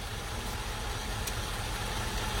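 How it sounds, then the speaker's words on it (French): The six-litre M100 V8 of a Mercedes 600 idles steadily nearby, a low, even rumble with no talking. "Moteur de la 600 M100"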